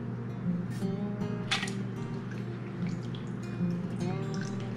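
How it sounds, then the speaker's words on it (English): Zucchini spears shaken free of salt water and dropped into a zesty, sweet, fiery pickling mix, giving a few soft scattered drips and splashes at close range over a steady low background hum. "Now we're going to add our zucchini spears from the salt water."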